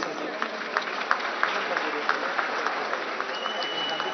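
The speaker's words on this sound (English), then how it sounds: "Shall we give all our cultural troops an encouraging round of applause?" Crowd applause fills the open-air Hornbill Festival venue in Kisama, Nagaland, a steady mass of clapping with scattered sharper claps for the cultural troupes, heard clearly throughout.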